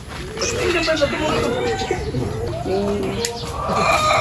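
Pigeons coo in low, throaty warbles close by, mixed with outdoor chatter and background noise.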